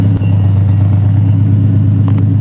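A car engine idles steadily at an impound lot in Rochester, a continuous low rumble held close and loud throughout with no voices over it.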